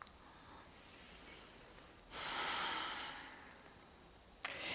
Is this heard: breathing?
yes